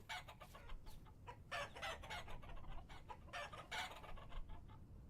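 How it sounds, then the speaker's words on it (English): Chickens and a rooster cluck in Vintage Story, several birds calling in overlapping bursts over a steady low ambient bed, with no talk. "Of course, I need a Generation 3 rooster."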